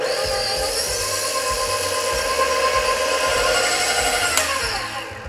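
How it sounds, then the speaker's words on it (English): A stand mixer on medium speed beats butter and dark brown sugar for a devil's food cake, giving a steady, loud, close whirring motor hum that holds throughout without any talking. "now we're gonna pop this on our mixer for about 2 to 3 minutes on a medium speed until it's light and creamy and fluffy"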